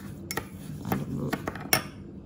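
Spoon clinking against a cup or bowl while stirring instant coffee, sugar and hot water together, a few bright metallic taps and scrapes in an irregular rhythm, close and fairly quiet.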